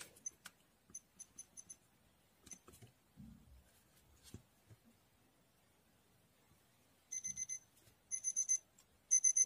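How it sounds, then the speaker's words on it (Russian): Faint, thin electronic beeps in short bursts, growing into quick repeated beep clusters toward the end, amid quiet handling clicks. "Пищит, конечно, очень тихо."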